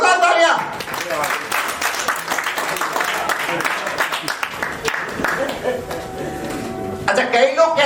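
Loud applause from an audience at a Forever Living Products achiever recognition event, dense clapping that runs for several seconds with voices over it.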